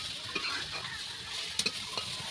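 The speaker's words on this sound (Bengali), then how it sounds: "ও বাবা, আলু আর ডিম ফ্রাই ভাজা হচ্ছে" Potatoes and eggs fry in a home kitchen pan with a soft, steady sizzle and a few sharp clinks of stirring, fairly quiet and close.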